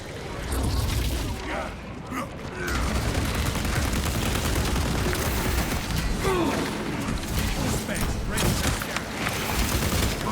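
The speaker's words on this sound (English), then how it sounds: "Frag grenade." Frag grenade blast and sustained gunfire in the video game Space Marine 2, a dense continuous barrage of shots and booms with game voices speaking over the combat.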